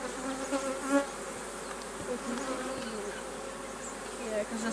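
Honey bees buzz steadily on a densely packed hive frame, a close, continuous droning hum with small fluctuations and faint handling sounds.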